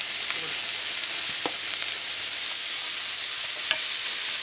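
Sweet corn and peas frying in a pan for a chicken-vegetable pie filling give off a steady, close sizzle, with a few light scrapes and taps as the mix is stirred.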